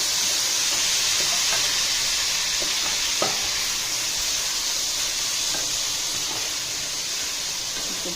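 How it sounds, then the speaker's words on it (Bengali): Small fish fry in a pan with a loud, continuous, close-up sizzle and hiss, with a few faint scrapes of stirring and no voices. "ছোটটাকে একটু ভাজতে বসিয়ে দিলাম ছোটটা একটু ভাজা ভাজা হচ্ছে"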